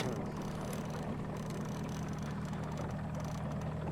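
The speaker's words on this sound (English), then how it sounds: "I'm gonna kill the motor." Fishing boat outboard motor idling on a lake during a fall fishing tournament in Saskatchewan, a low steady hum with faint water noise, quiet and continuous.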